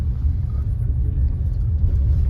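A car rumbles steadily from inside as it drives along a road near a dry river, a low, even engine drone with no voices.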